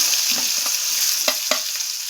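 Fried potato pieces tipped into a hot pan for a Bengali red spinach chachchari: a bright continuous sizzle with several short knocks and scrapes of stirring, close and fairly loud, no voices.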